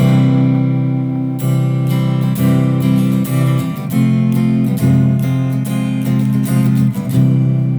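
A clean electric guitar plays bright chords and single notes with steady, sustained tone, loud and close, no voices.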